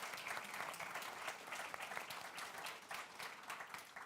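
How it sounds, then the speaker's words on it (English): A panel discussion audience breaks into sustained applause, a dense steady wash of many hands clapping throughout, moderately distant and with no talk over it. "Ladies and gentlemen, a great applause to our wonderful panel."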